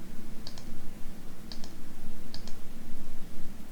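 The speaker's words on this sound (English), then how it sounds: "and then you carry on clicking" A computer mouse gives three quick double clicks, sharp and light, spaced about a second apart over a faint steady hum.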